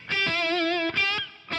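Sustained electric guitar notes with a blues rock tone, run through a TH3 Rock amp and effects unit. They ring out in two long distorted phrases with a slight chorus shimmer and no talking.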